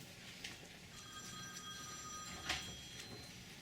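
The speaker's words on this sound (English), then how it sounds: "I wonder if that's my phone." A telephone rings faintly in the background of a painting workshop, its thin electronic trill rising briefly over low room hum with no one speaking.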